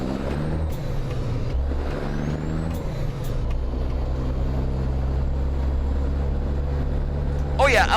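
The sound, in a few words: truck with 3406E engine, from video game American Truck Simulator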